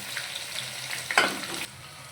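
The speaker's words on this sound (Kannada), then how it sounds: "ಈಗ ಈರುಳ್ಳಿ ಹಾಕ್ತಾ ಇದ್ದೀನಿ. ಈರುಳ್ಳಿ ಸ್ವಲ್ಪ ಫ್ರೈ ಆಗಲಿ." Onions being fried in a pan with curry leaves for khichdi, a soft sizzle with a brief louder burst as they hit the oil, close and without talk.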